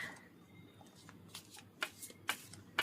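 Oracle deck cards shuffled by hand, with a few soft riffling swishes and papery flicks growing louder toward the end, close and quiet, with no talk.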